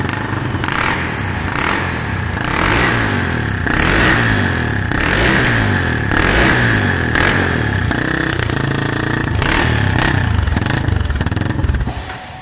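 A Honda CB 300 motorcycle with a tuned high-rev camshaft and 1 mm oversize piston is revved repeatedly up close, loud rising and falling engine blips in a steady rhythm with a rough, clattery exhaust note.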